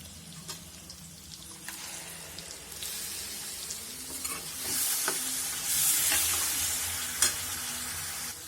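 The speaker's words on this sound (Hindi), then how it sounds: "इन सबको इसमें डाल देते हैं और अच्छे से चला देते हैं" A spoon stirs and scrapes rajma masala with tomato puree in a hot pan, with a steady close sizzle under irregular scraping strokes and no talking.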